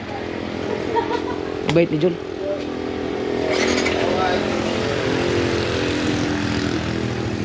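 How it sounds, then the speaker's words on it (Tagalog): A motorcycle engine idles and runs steadily nearby on a ride to Edralin Falls, a continuous low rumbling drone with a short burst of revving, under people talking. "ito pala itong motor ko"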